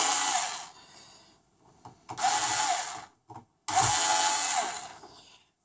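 A small powered screwdriver whirs in three bursts with short pauses between them while backing T9R Torx screws out of a PS4 CUH-12XX console, close and clear with no talk.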